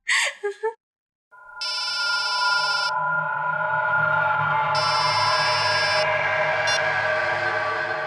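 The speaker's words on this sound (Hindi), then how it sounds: "मैडम, आपका फोन बज रहा है।" A mobile phone rings with two bursts of bright repeated electronic tones over a sustained musical drone, following a few brief spoken syllables at the start.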